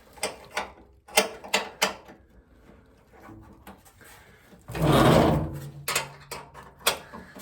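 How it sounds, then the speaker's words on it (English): Small bolts on a roughly 40-year-old kerosene torpedo heater are worked loose with a wrench and screwdriver, giving a series of close metallic clicks and ratcheting taps with a brief louder scraping rasp midway. "I'm just going to crack them loose with this and then spin them off with the screwdriver"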